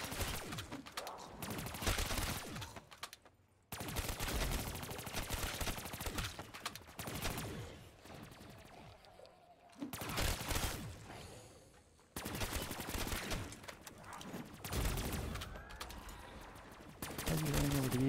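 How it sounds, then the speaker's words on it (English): A fireworks weapon in a co-op zombies video game fires in rapid, loud, sustained bursts broken by short pauses, with a player talking over the gunfire. "I'm just gonna run my fireworks weapon"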